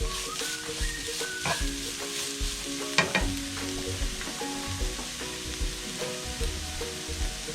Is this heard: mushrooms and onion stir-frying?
yes